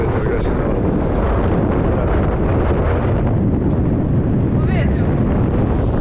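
Strong, continuous wind gusts roar and buffet around a sailboat anchored behind a reef, a dense broadband rush with heavy low rumble and no pauses throughout.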